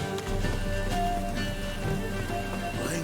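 Rain falls steadily in the open world of the video game The Witcher 3: Wild Hunt, a close, continuous patter under sustained tonal background music.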